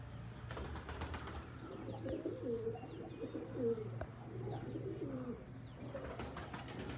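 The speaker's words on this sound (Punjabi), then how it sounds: "ਆ ਜਾਂਦੇ ਬਈ ਕਬੂਤਰ ਆਪਣੇ" Pigeons coo softly and repeatedly at a moderate distance over a low steady hum, with a few flutters and faint chirps mixed into the calm rooftop ambience.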